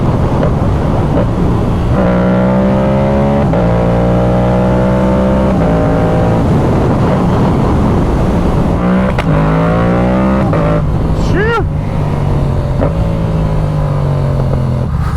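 A Yamaha R7 sport motorcycle with a loud Yoshimura exhaust, dB killer installed, rides past, revving through gear changes with rising and falling engine pitch, plus steady wind rush on the microphone.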